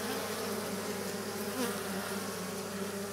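Honeybees in an opened beehive reacting to a young queen make a steady, dense buzzing drone that stays close and fairly loud throughout, with no voices.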